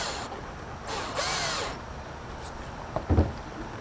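A power drill drives a stainless steel screw into an Aliner camper in two short bursts, a near whir that revs up and stops, followed by a few faint knocks.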